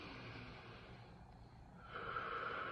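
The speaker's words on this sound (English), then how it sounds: "And what I do is I breathe in" A person draws in a long, deep breath through the nose and mouth, a soft airy rush that swells louder toward the end, close and alone with no talk.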